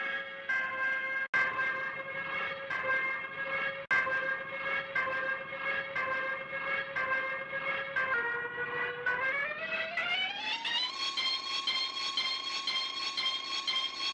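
A steady alarm tone synthesized in Soundpaint repeats in a loop, then glides upward in pitch and holds a higher wailing note, loud and continuous.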